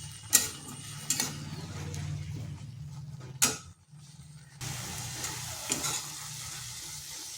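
Drumstick (sajne) greens frying over medium heat in a pan, a close, steady sizzle broken by several sharp scraping stirs of the spatula, with one brief lull before the frying resumes loudly.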